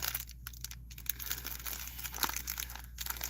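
Small plastic bag crinkled and torn open by hand, close and fairly faint, with irregular crackly rustles and a few sharper crinkles over a low steady hum.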